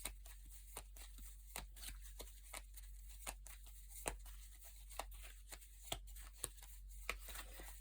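Tarot cards shuffled by hand during a reading, a quiet run of regular crisp riffles and soft slaps repeating roughly every half second, close and alone.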